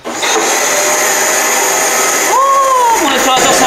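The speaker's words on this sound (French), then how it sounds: "Oh, mon aspirateur s'est rallumé!" A vacuum cleaner runs with a loud, steady motor whine that switches on abruptly at the start and holds a constant drone. A voice speaks over it near the end.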